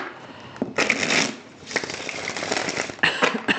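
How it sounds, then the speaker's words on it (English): Three separate bursts of card shuffling, each a quick papery riffle and flutter, close and fairly loud, with brief quiet gaps between them. "Go ahead and breathe with me while I shuffle the cards"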